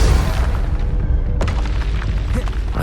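A spell explosion in the video game Hogwarts Legacy: one sharp, loud burst cracks out midway over a constant low rumble of combat noise.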